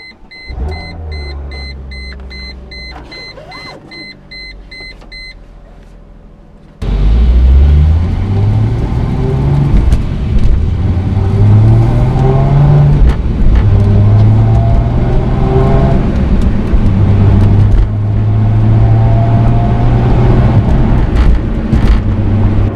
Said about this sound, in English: So we're going to go ahead and start it up and take it on a short drive.